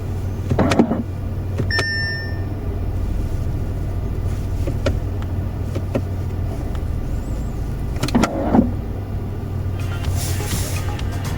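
Inside a running Skoda Octavia A8 with a 1.4 TSI engine, a steady engine hum is broken by a few brief clunks and whines as the transmission shifts, with no talking.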